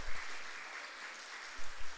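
A church congregation applauds, a dense, steady wash of many hands clapping at moderate distance, swelling slightly at the end.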